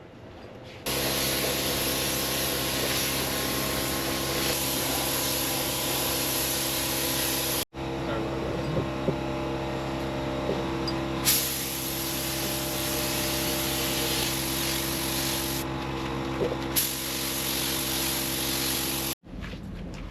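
Spray gun laying clear coat inside a BMW E90 335i engine bay, a steady broad hiss running almost the whole time with brief pauses between passes, close and loud.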